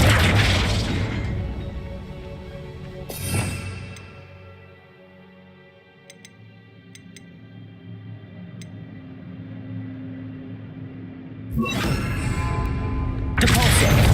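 A booming spell impact in Hogwarts Legacy, Flipendo hitting its target, with heavy crashing bursts at the start and near the end and a quieter ringing stretch in between.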